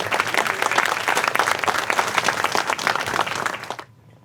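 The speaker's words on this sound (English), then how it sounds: "One more round of applause for immediate past president representing Texas National Bank, Mr. Michael Williamson." An awards banquet audience applauds in a lively, dense burst of many hands clapping at close range, sustained and even before it cuts off abruptly into near silence.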